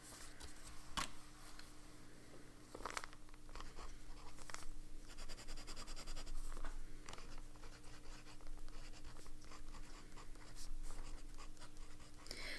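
A pen writes Sailor ink onto a card with soft, continuous scratchy strokes, faint and close-up, broken by a few light taps and a steady low hum underneath.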